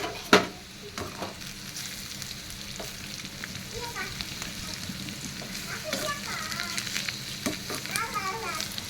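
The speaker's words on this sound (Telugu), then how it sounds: "ఒకసారి కలుపుకుందాం." Bitter gourd (kakarakaya) fry being stirred in a pan gives a steady close sizzle, with one sharp utensil knock near the start and a few softer scrapes and clinks over the hiss.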